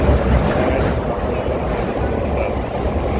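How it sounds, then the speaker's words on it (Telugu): Train travelling over a bridge, a steady, loud and broad rumble that holds without a break from start to finish, with no talk heard. "ఇదే బ్రిడ్జ్ మీద ఈ ట్రైన్ ప్రయాణం చేయడం"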